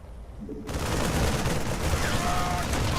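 Dense, sustained video-game gunfire in StarCraft 2 erupts after a quieter start and continues as a loud, continuous rattle of shots.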